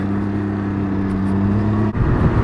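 Steady engine drone from a 2021 Can-Am Ryker 900 three-wheeler ridden with a 2-inch handlebar riser, close and continuous, with a brief dip near the end before the engine note picks up again.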